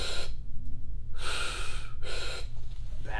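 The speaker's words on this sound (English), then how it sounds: "and then I'm gonna breathe." Heavy, forceful breaths during an ab wheel rollout exercise, three loud close bursts of air in a steady rhythm with short gaps between them.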